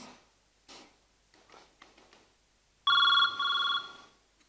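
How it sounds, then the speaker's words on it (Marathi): A mobile phone rings with two loud electronic tone bursts after a stretch of quiet shuffling and faint sounds, close and clear. "तुमचा फोन वाजतोय."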